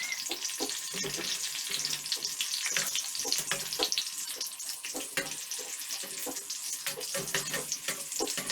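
Pieces of food sizzle and crackle in hot oil in a home kitchen, a dense, continuous spattering hiss with frequent sharp pops, close and fairly loud, with no talking.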